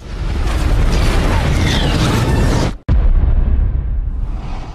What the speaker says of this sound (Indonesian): Dan bom tersebut akan meledak beberapa detik lagi